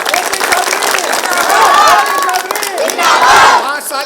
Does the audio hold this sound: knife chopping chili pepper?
no